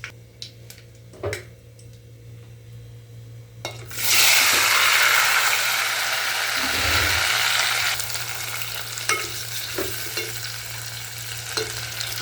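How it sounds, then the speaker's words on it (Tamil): Onions and tomatoes go into hot oil together and sauté in a pan, a sudden loud sizzle that holds steady for several seconds, then settles into a softer crackle with occasional stirring clicks. "வெங்காயம் தக்காளி எல்லாத்தையும் ஒன்றாவே போட்டு வதக்கிடுவோம்"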